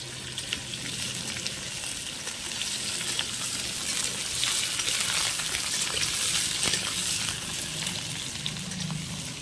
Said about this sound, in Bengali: আমি কড়াইতে এঁচড়গুলো দিয়ে দিচ্ছি, সেগুলো আমি ভেজে করে নেব।